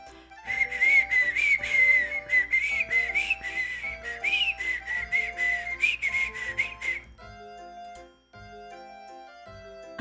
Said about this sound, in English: I can't really whistle very well.